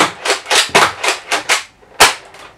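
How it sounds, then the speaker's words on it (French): A Nerf Modulus Battlescout toy blaster firing foam darts makes a quick series of loud, sharp pops, about six rapid shots then a pause and one final louder shot. "Quand on reste appuyé sur la descente et qu'on charge, en fait ça fait juste passer les fléchettes."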